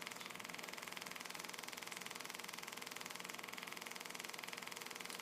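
A low-pressure 4.5 psi electric fuel pump runs steadily in a prototype aircraft fuel system, giving a rapid, even buzzing pulse that stays constant and close throughout.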